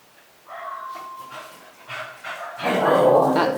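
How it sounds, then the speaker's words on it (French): A dog barks several times in short bursts, moderately close, with a louder, rougher stretch of barking toward the end. "vous allez entendre mon chien aboyer"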